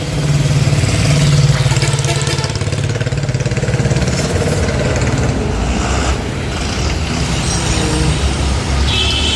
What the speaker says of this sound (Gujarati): જોઈએ કેવો ટ્રાફિક છે.